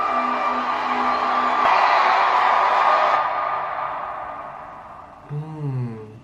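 A roaring crowd cheers and shouts for several seconds, swelling then fading, followed by a brief voice.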